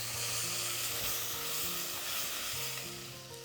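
Onions sizzle steadily in a frying pan, a loud close hiss that holds for a few seconds and eases slightly at the end, with no voices.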